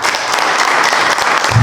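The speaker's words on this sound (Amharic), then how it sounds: "እስቲ ስለ እግዚአብሔር አጨብጭቡ።" A church congregation applauding, a dense burst of clapping from many hands, loud and close, filling the whole short moment without a pause.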